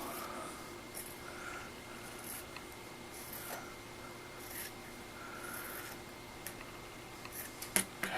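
Scissors snip through paper to cut out a circle for a singed paper flower, producing quiet, intermittent cuts and rubbing at close range, with a few sharper clicks near the end and no talking.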